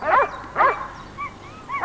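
Hunting dogs bark during a bear hunt in Bulgaria, giving three sharp, loud barks about half a second apart, with thin whining yips in the gaps between them.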